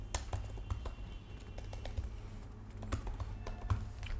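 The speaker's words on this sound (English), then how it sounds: "Now I am going to type" Rapid, close clicks of typing on a computer keyboard, with irregular bursts of keystrokes over a low steady hum and no speech.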